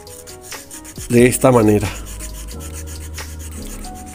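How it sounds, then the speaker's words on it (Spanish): The metal hook of an overlock sewing machine is sanded by hand, giving close, raspy rubbing strokes with a brief spoken phrase in Spanish. "Nunca lo lijen por este lado, porque eso acabaría con la vida del gancho."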